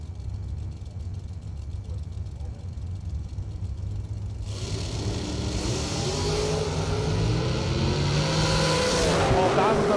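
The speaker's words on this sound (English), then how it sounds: "Larkin driving one of Brett Sloat's dragsters." A door-car dragster launches down the strip at a drag racing event, a quiet engine rumble suddenly swelling into a loud, sustained, rising roar as it accelerates away, with a crowd and announcer talking faintly beneath.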